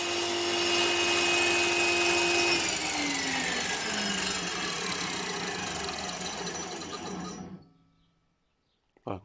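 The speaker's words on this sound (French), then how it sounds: "je viens de finir de découper mes plaques pour faire le fond de mes couvre-cadres" Power tool cutting marine plywood sheets for the base of beehive frame covers: a loud, sustained whining drone whose pitch dips partway through, then the tool cuts off abruptly, leaving near silence and a brief clatter.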